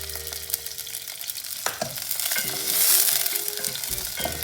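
Finely cut shallots and curry leaves fry in hot oil for a South Indian chutney, giving a bright, crackling sizzle that rises in the middle, with scattered stirring clinks and no talk.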